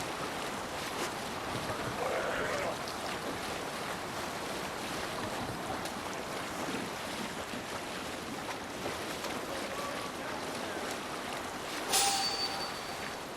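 Steady rush of water and wind around a Viking longship under sail in Assassin's Creed Valhalla, with waves washing against the hull throughout and a brief sharp splash near the end.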